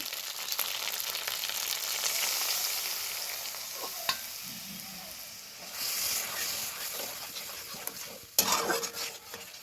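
Spice paste of cumin, coriander, turmeric and Kashmiri chilli powder mixed with water sputters in hot oil, a steady loud sizzle with scattered stirring scrapes and a sharper burst near the end.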